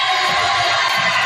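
Home crowd at a high school varsity volleyball game between the Godley Wildcats and Hillsboro Eagles, a loud, dense, steady roar of cheering and shouting that fills the whole short moment.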